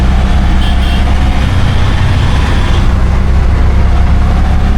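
An auto rickshaw rides through Hyderabad city traffic, its engine a loud, steady low drone with rumbling road noise that barely changes throughout.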